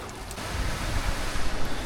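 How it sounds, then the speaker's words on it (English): Rushing water from a Swiss waterfall roars as a steady, broadband wash close by, with gusts of wind buffeting the microphone and no voices over it. "I thought it started raining, but it's just the waterfall."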